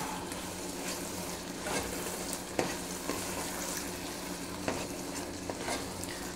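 Portobello mushrooms sizzle steadily in a pot of tomato bisque soup, a continuous close frying hiss broken by occasional soft clicks of stirring.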